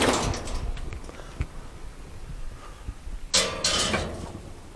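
A cooker lid is set in place over a pot roast cooking at 275 degrees, giving a brief close clatter and scrape near the end after a stretch of quiet handling noises and faint background hum.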